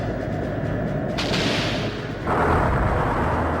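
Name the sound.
enemy cannon fire in video game Skies of Arcadia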